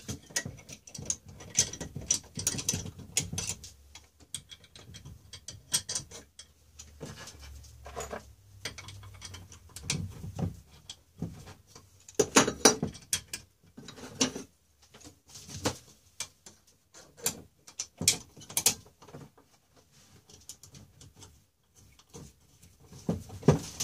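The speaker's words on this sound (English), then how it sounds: "So we'll do the bolts up on the hinge here." Ratcheting clicks from a wrench tightening bolts on the hinge mount of a friction drive bike motor, coming in short irregular bursts with quiet gaps, close and fairly faint.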